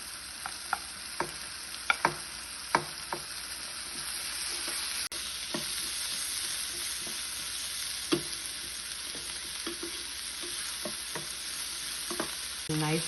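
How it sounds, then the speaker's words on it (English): Corn and carrot fry in a hot pan with a steady sizzle, while sharp scraping clicks from stirring come at irregular intervals; close, fairly quiet, no speech. "I add the corn and carrot to it."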